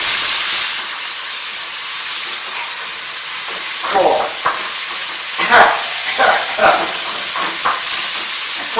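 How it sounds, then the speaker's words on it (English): Chicken, long beans and onion sizzle loudly in a hot pan, a bright continuous hiss broken by repeated scraping stirs in the second half, with a brief spoken word. "and we keep stir frying."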